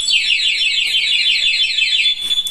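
A PIAA motorcycle anti-theft alarm blares close and loud, a rapid repeating electronic siren sweep that warbles for about two seconds before cutting off abruptly.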